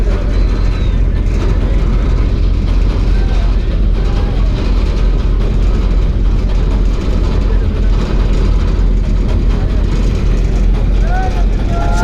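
The river passenger launch M Khan 7 powers up its engines as it leaves Barisal ghat on a crowded Eid trip; a loud, steady, close diesel roar and water rush continue throughout, with someone talking over it.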